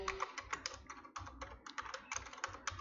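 Rapid, steady clatter of keys on a computer keyboard as text is typed into a Visual Basic 6.0 program, close and fairly quiet, with brief pauses between bursts and no voices.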